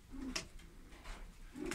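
Soft pigeon coos repeat a few times close by, low and throaty, with faint background noise.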